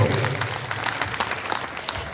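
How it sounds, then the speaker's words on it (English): Applause from the audience at the VisionCon 2022 cosplay contest, a moderate patter of claps with some distinct hand strikes, steady through the clip and slowly thinning. "Give Jared another round of applause, guys."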